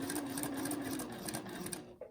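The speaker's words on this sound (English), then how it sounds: "So I'm going to take a few stitches" A sewing machine stitches quilt fabric for a Drunkard's Path quilt block, running in a fast, steady whir at close range before stopping near the end, with no talk.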